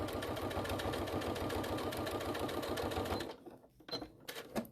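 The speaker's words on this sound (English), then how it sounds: "this one, I'm going to top stitch because it's right on that edge" Close, steady rhythmic whirring of a sewing machine top-stitching pleather patchwork along an edge, running continuously before cutting off, followed by a few faint clicks and handling knocks.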